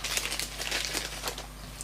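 Paper crinkling and rustling in the hands during a heat embossing craft session, a quick run of close, soft crackles and crumples with no talking.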